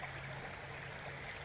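The Mechi River flows at a riverside night camp, a steady, faint broadband rush of water with no talk over it.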